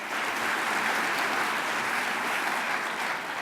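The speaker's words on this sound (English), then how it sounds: "a round of applause for Ray and Marcus and Fritzi" A round of applause at a college spring opening meeting, steady clapping from the audience sustained evenly at moderate distance with no talk over it.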